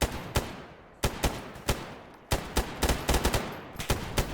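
Bursts of gunfire in S.T.A.L.K.E.R. GAMMA crack out in irregular clusters, single shots and quick volleys, sharp and loud, with a game-like combat feel and no talking.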